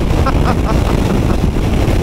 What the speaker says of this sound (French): Et là il y a énormément de vent, je me fais déporter.